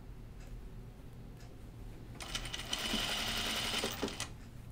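Nearby, a sewing machine runs a French seam on a caftan in one sustained burst of fast, even stitching lasting about two seconds after a quiet start.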